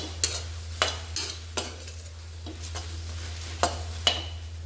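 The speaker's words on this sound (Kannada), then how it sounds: "ಎಲ್ಲ ಲೋಳೆ ಎಲ್ಲ ಬಿಟ್ಕೊಂಡು ಚೆನ್ನಾಗಿ ಫ್ರೈ ಆಗ್ತಾಯಿದೆ" Okra sizzles softly in a pan under a low hum while a spatula scrapes and taps at irregular intervals, close by and quiet.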